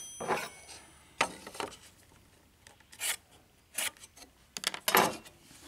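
A hand saw cuts timber held in a miter box, with short rasping strokes in uneven bursts, some louder than others, close and fairly quiet with no talk.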